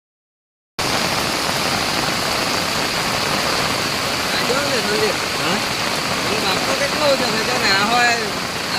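Torrential monsoon rain and floodwater in Dang district, Gujarat, where water has entered homes: a loud, dense, unbroken roar of pouring water, with people talking over it.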